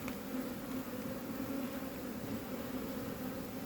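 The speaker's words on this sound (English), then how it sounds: "Lots of bees" Honeybees buzz steadily during a beehive inspection, a dense, continuous hum of many insects close by without voices.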